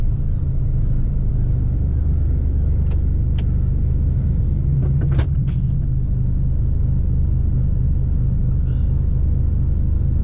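A truck in a car park pulling away gently on low revs, giving a loud, steady low engine rumble throughout with a few faint clicks partway through and no talking.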